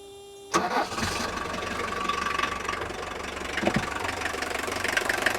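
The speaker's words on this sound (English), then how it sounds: "The clatter of an old 4-cylinder, normally aspirated diesel engine by Mercedes-Benz." A 1983 Mercedes-Benz naturally aspirated four-cylinder diesel cranks and catches with a sharp start, then settles into a steady, close, loud knocking clatter at idle with no talk over it.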